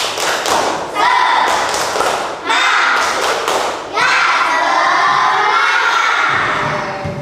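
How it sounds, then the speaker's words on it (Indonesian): Fifth-grade schoolchildren in a classroom perform a rhythmic clap-and-chant routine, with bursts of group shouting punctuated by sharp claps and thumps in repeated phrases, loud and close. "kalau sudah siap kita tepuk semangat dulu ya. Tepuk semangat."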